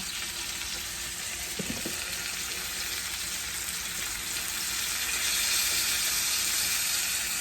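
A ribeye steak sizzles in a pan, giving a loud, steady, close frying hiss that swells slightly toward the end, with one brief knock and no talking.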